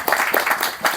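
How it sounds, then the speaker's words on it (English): A short burst of applause from a small group, several quick claps blending into a brief patter. "Give him an applause"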